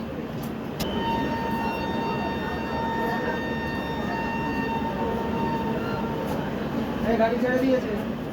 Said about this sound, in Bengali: এই এখন ট্রেন ছেড়ে দিচ্ছে, এক্ষুনি ট্রেন ছেড়ে দেবে